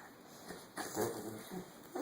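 A dog whimpers and yips while begging for dinner scraps, short high whines and a few louder whimpering bursts close by in a quiet room with a faint background hum.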